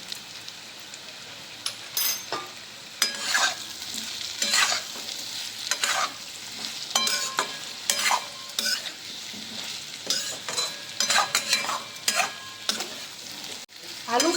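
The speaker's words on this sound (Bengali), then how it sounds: "মশলাটাকে সব একসাথেই কষানো হয়ে গেছে" Spice paste for a vegetarian papaya and potato curry is stir-fried in a pan, a continuous sizzle broken by repeated scraping strokes of a spatula at an irregular, steady pace, close and fairly loud.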